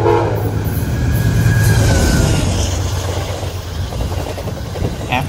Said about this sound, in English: Our first train of the day would be Amtrak P684 heading to Boston with a friendly crew.